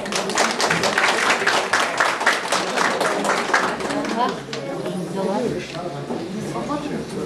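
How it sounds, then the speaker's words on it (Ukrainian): An audience at an Udmurt folk ensemble's anniversary concert applauds loudly and briskly, with dense clapping for about four seconds before it thins and voices come through. "Ваши аплодисменты."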